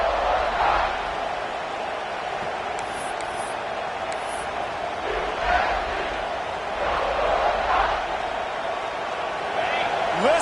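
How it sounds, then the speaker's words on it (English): A stadium crowd roaring at a football game: a broad, continuous wall of crowd noise swelling and surging in waves, with a voice talking over it throughout. "Listen to this crowd just shaking the girders of this place, trying to help their defense"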